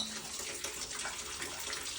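Water pours steadily from a tap, a constant close splashing rush with no breaks over the whole short stretch.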